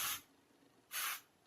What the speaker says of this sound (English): I take this Rising Star Volumizing Finishing Spray